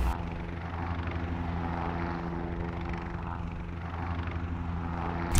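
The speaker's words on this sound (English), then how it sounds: "Hopefully I'll see land and I can correct the helicopter and fly to safety" A helicopter flies in a video game, its engine and rotor making a steady, even, humming drone at low volume throughout.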